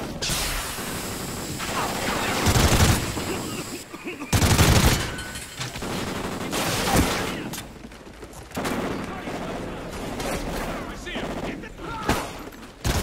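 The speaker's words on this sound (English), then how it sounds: "that was him shooting me" Enemy gunfire in a Call of Duty Ghosts campaign battle: loud bursts of automatic fire and heavy impacts, with two especially strong volleys, rising and falling over a steady din of combat.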